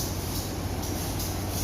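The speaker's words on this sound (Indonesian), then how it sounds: "Nah, keretanya sudah siap nih." Steady, broadband rumble of a train at Lembah Anai station, an even, continuous drone with no distinct voices.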